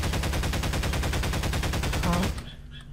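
Rapid automatic gunfire in Garry's Mod, a long fast burst of evenly spaced loud shots that cuts off abruptly near the end, leaving faint game sounds behind.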